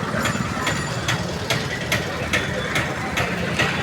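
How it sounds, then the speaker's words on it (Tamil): A vehicle engine idles with a steady low rumble and regular ticking pulses as it is taken out in Madurai, heard close and continuous throughout. "சார் இப்போ வண்டி எடுக்க போகிறாரு."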